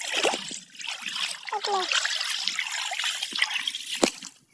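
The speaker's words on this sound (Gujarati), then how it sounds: "કેટલું બધું પાણી જાય છે" Water trickles and splashes steadily on a trip near Morbi, a close, fairly loud liquid wash with brief splatters, and faint voices now and then underneath.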